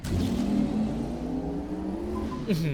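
A Porsche-skinned car engine in Overwatch 2 revs steadily, its pitch rising and shifting in a sustained synthetic-sounding whine, with a brief gear change near the end.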